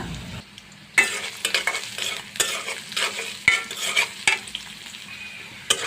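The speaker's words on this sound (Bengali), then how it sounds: "আমার পেঁয়াজ একটু ভাজা হয়েছে" Chopped onion fries in hot oil in a pan, with a steady broadband sizzle that starts abruptly and carries on with intermittent stirring scrapes and clinks, close and fairly loud with no talking.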